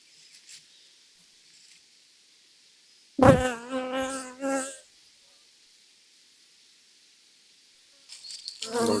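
Honeybees fly out of a hive on a January day: a faint, thin buzz runs throughout, broken by a louder close burst of droning wings near the middle and again at the end.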